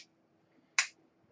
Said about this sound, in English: you can hear that click, that's the reset